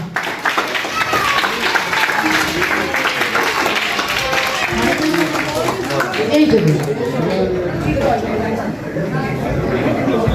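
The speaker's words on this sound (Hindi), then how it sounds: "हामिद राना साहब के लिए बहुत सी तालियां।" Audience applause and clapping at a comedy charity program, mixed with crowd chatter and babble, steady and dense throughout with voices over it.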